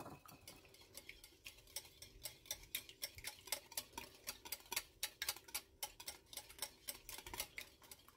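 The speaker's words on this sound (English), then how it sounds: "I'm just going to whisk the eggs until it's kind of like making scrambled eggs" A whisk beats eggs in a bowl until frothy, giving fast, steady clicking taps against the bowl that repeat without pause, close by but fairly quiet.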